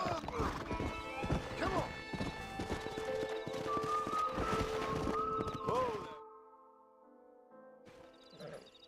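Horse hooves clip-clop in a steady rhythm in Red Dead Redemption, with a whinny and voices talking over the first six seconds, then a quieter stretch with faint residual tones.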